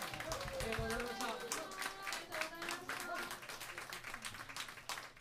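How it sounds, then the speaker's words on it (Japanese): An audience at a live music show in Kushiro applauds a band, quiet, distant rapid clapping with a few voices speaking over it. "盛大な拍手を。"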